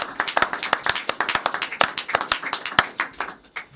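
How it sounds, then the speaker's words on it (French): An audience claps at a live broadcast: a quick run of sharp, separate hand claps from a small group, steady and fairly close, fading out near the end. "Sa belle, on applaudit."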